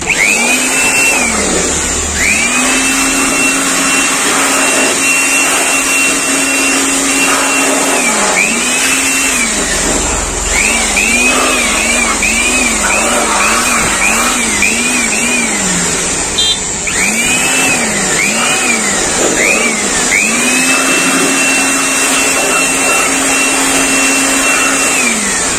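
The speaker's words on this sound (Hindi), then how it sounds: "मैंने इसे क्लीन कर लिया है वैक्यूम क्लीनर की मदद से" A vacuum cleaner pulls dust out of a laptop's internal cooling fan, its loud steady whine repeatedly rising and dropping in pitch as the nozzle moves, with no talking.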